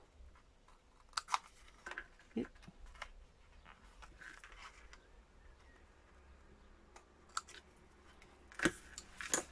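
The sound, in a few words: scissors cutting paper corner at an angle for a scrapbook frame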